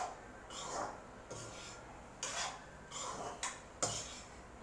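A spoon scrapes and stirs pepper through food in a pan over high flame, giving several short, quiet rasping strokes at an uneven rhythm.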